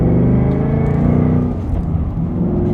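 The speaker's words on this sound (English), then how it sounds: "I assume you guys can hear that great sound at the back of the car." A Ford Mustang GT with an MBRP 3-inch cat-back exhaust rumbles loudly from close range while driving, a low throaty drone that eases slightly partway through.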